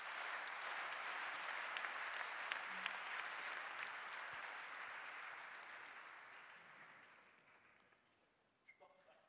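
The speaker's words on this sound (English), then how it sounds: "Crowd cheering" A table tennis crowd at a Polish Open final bursts into sustained applause and cheering, a broad wash of clapping that slowly fades, with a few distant voices near the end.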